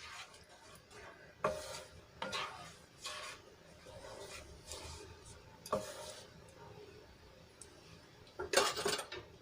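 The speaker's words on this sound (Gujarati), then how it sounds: "સરસ રીતે છાશને અને પાણીમાં ગ્રેવીમાં સરસ રીતે મિક્સ કરીને હલાવી લઈશું" A spoon stirs buttermilk and water into gravy in a cooking pot, giving several scraping, clinking bursts of utensil against metal with quieter swirling between them, close by and alone.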